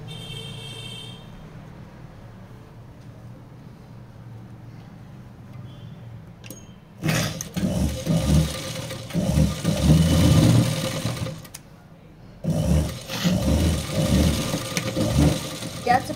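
An electric sewing machine stitches straight along the top edge of a boat-neck blouse piece, running in two loud bursts of rapid whirring after a quiet pause with faint background sounds.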